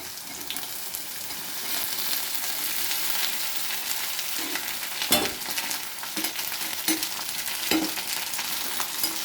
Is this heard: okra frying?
yes